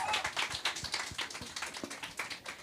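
Audience applause, a dense run of quick overlapping claps, fairly close and steady for the whole stretch with no voices over it.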